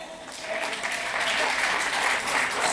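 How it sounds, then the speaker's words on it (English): A conference crowd at the PNP Women's Movement annual gathering in Jamaica breaks into steady, full applause that swells slightly and holds evenly, with faint voices mixed in. "So clap them again."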